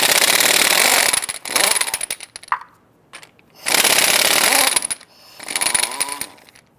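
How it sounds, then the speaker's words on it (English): A power tool with a 7/8 socket spins lug nuts off the front wheel of a 2002-2008 Dodge Ram 1500, three loud close bursts of buzzing whir with short pauses between them. "Using our 7/8 socket, we're going to head loosen and remove our lug nuts."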